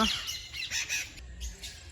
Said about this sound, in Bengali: এটা পুরো পাখি রয়েছে এখানে